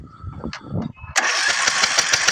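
A Craftsman riding mower engine, left sitting for years with the spark plug removed, cranks over after a few faint clicks and knocks, then gives a loud, steady rhythmic churning that is close by.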